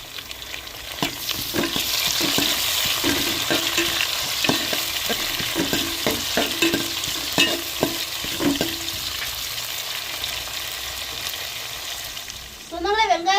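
Chopped tomato and onion sautéing in a pan for sambar, with a steady sizzle and a series of rhythmic stirring scrapes in the first half before it settles into frying hiss alone.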